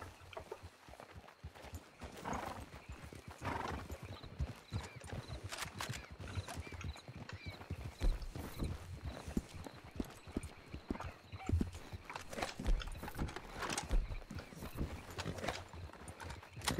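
Horse hooves clip-clop in the video game RedM (Red Dead Redemption): a fairly quick, uneven run of hoofbeats, moderately close, continuing throughout with game ambience underneath.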